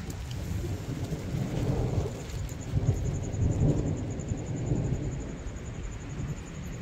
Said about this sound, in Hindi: आ गई बारिश, वेलकम द रेन।